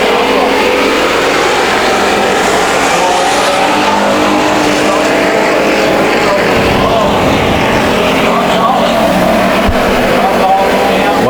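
Race cars roar at full throttle through a Bakersfield Speedway heat race, a loud, continuous wall of engine noise with passing surges and some tire scrub, while an announcer talks over the racing throughout.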